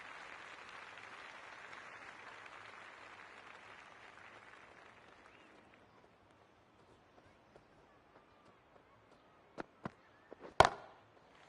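Scattered applause from a virtual cricket stadium crowd, faint and fading out, followed by a few sharp knocks near the end.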